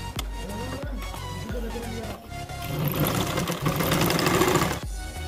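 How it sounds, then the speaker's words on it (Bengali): A sewing machine runs a reversed top-stitch on cloth at a maxi dress neckline, whirring steadily up close with a brief pause before speeding into a louder, denser stitching run. "এই যে উল্টো করে চাপা সেলাইটা দিচ্ছে"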